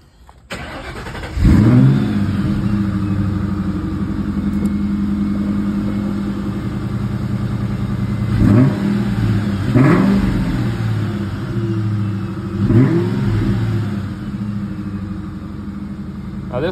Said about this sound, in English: So let's fire her up.